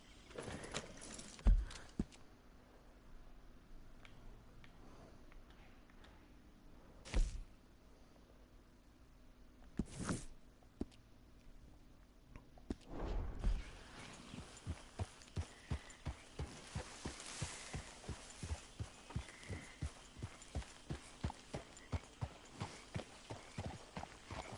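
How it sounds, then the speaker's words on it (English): Hooves of a horse in a video game clip-clop at a steady walking pace, faint at first and growing clearer and more regular, with a few scattered knocks and no talking. "Hey, what's that horse doing in here?"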